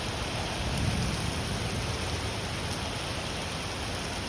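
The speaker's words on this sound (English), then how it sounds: "This is an actual severe thunderstorm." Heavy rain in a severe thunderstorm, a dense, steady hiss of downpour with a low rumble of distant thunder early on, constant and enveloping throughout.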